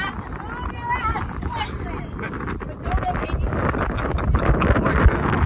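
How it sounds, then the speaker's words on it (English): Strong wind buffets a boat at a sandbar near Siesta Key, a steady loud rumble that swells stronger in the second half, with people talking over it. "We have a strong wind coming at us"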